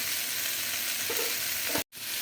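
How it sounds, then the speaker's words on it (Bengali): Mixed vegetables with cauliflower and paneer are sautéed with spices in a pan, giving a steady close sizzle with stirring scrapes before a brief cut to silence near the end. "কষিয়ে নিচ্ছি মশলার সঙ্গে"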